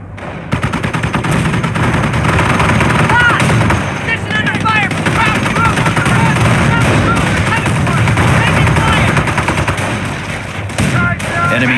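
Dense battlefield gunfire in the World War II strategy game Company of Heroes, machine guns and rifle shots chattering nonstop over a low rumble of heavier fire, loud and continuous throughout.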